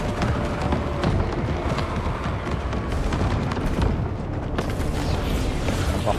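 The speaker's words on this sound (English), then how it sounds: "As you can see, they're shooting here." Dense, continuous battle din of units shooting in Total War Warhammer 40k, booms and rumbling explosions layered with rapid gunfire, loud and unbroken throughout.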